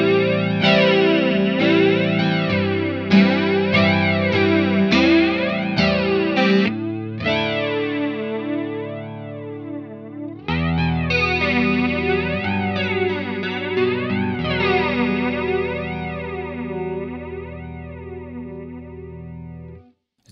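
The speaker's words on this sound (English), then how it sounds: "Turn up the resonance and hear a little more traditional flange sweep." Strymon Zelzah modulation pedal set to a traditional flanger with resonance turned up, sweeping a sustained electric guitar chord as a jet-like whooshing comb rises and falls; loud and continuous, with a brief break near the middle, no talk.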